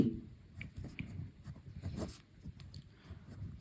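A pen scratching on paper while working out a Class 7 math problem, with soft irregular strokes and short taps repeating close by at low volume, no voice over it.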